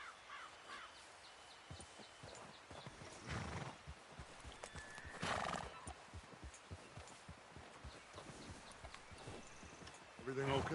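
Hooves clop and a horse neighs and whinnies in Red Dead Redemption 2, with crow-like caws and voices talking over the game audio during a train robbery scene.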